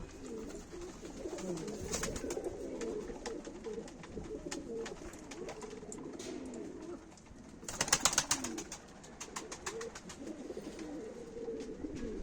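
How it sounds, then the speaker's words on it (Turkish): Pigeons kept in a coop in Mardin coo continuously in low, rolling phrases, with several birds overlapping nearby and a brief burst of clattering or flapping partway through. "Aa burada da kuş var içeride"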